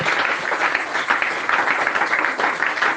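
A church congregation applauds the Lord, a loud, sustained wash of many hands clapping at once, dense and unbroken for the whole stretch, with faint voices mixed in.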